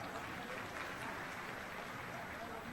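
Applause welcoming the health and panchayat minister at a public event in Ambikapur, a dense, steady wash of many hands clapping at a distance, fairly faint.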